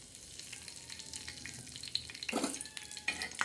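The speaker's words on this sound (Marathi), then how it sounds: "आता हा आपण कढीपत्ता टाकलेला आहे" Curry leaves sizzle and crackle quietly in hot oil, with a brief louder splutter near the end.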